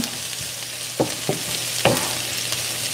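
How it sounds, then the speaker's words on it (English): Carrots and onions sauté in olive oil with a continuous soft sizzle, a low hum underneath, and a few louder stirring scrapes spaced through the middle. "So I'm sauteing my carrots and onions together to make them nice and gold"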